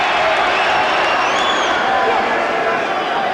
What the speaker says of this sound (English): the crowd beginning to get quite animated here